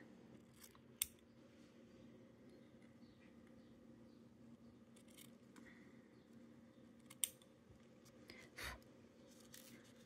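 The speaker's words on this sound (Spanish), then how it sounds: "Ahora le cortamos así en diagonal." Scissors snipping crochet yarn diagonally while making a small Christmas ornament: a few sharp, quiet clicks spread apart over a soft, low background, faint and close.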